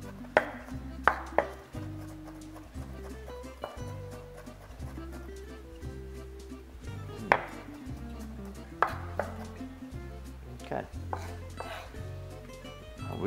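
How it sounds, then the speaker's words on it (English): A knife chopping shallots and garlic on a board while making homemade Italian tomato sauce, scattered sharp taps in uneven bursts, close and fairly quiet, over steady background music. "Now that we have the shallots cut, chopped, and the garlic chopped"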